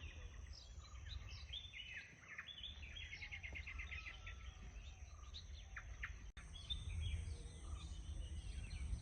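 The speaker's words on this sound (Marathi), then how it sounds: "तुम्ही पक्ष्यांचे येणारे हे आवाज नक्कीच ऐकत असाल." Birds chirp and trill in a quiet morning garden nursery in Ratnagiri, with quick repeated twitters near and far over a faint insect hum and low ambient rumble.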